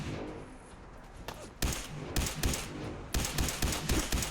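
Gunshots from Fallout 4 ring out in bursts: a couple of quieter shots give way to sharp, loud automatic volleys separated by short pauses, with no talking.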